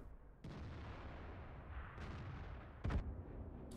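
Artillery shot fired at a KV4 tank in World of Tanks: a low rumbling battlefield background, with a sharp crack near the start and a louder boom toward the end.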